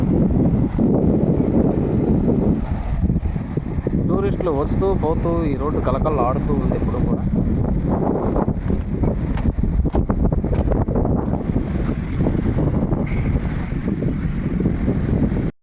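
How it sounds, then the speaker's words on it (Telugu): Strong wind buffets the microphone in a constant low roar while a person talks over it outdoors at a reservoir. "గాలి అయితే మంచిగా వేస్తుంది"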